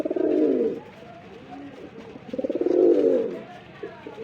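Pigeons coo in a breeding loft, two rounded, throaty coos close by, each rising and falling, with softer rustling and murmuring between them.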